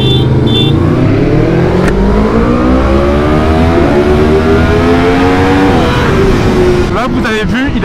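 A 2023 BMW M1000R motorcycle accelerates hard and shifts up through the gears, its engine note climbing in rising sweeps with brief drops at each shift, loud and close, with a voice talking over it.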